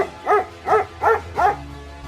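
A dog named Sheru barking four times in an even rhythm, close and loud, with no talk over it.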